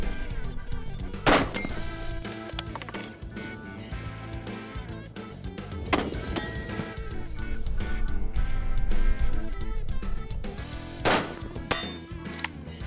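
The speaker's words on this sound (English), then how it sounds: "I've got a series of targets out here on the range, and I'm simply going to range and shoot them" Three loud .30-06 rifle shots ring out at targets on an outdoor shooting range, spaced several seconds apart over a steady musical bed.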